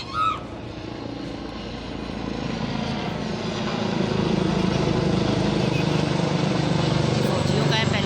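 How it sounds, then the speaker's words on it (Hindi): A military helicopter approaches from a distance, its rotor and engine drone growing steadily louder, with a voice speaking briefly at the start. "अभी जो है ना हेलीकॉप्टर आ रहा है।"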